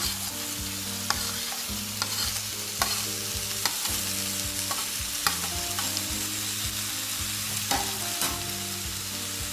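Paneer and vegetables sizzle in a kadai coated with masala while a spoon stirs and scrapes them in a steady, repeated rhythm, close and continuous with no talking.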